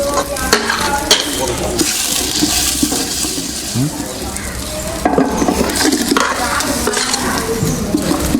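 Masala fries and sizzles steadily in a hot pan while a utensil scrapes and stirs through it, with occasional clinks and a voice speaking briefly.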